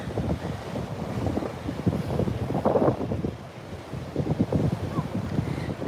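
Rough, choppy ocean surf at Beach Haven under a red-flag warning, with a steady roar of breaking waves and gusty wind buffeting the microphone, close and loud.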